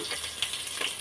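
Green chillies frying in hot oil with bay leaf and cloves for Telangana-style spicy bagara rice, giving a brief, steady, close sizzle with no talking.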